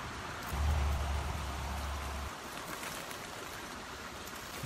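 Persistent rain falling in a forest, a soft, even patter and hiss of drops on leaves with a faint low rumble early on, quiet and continuous with no voices.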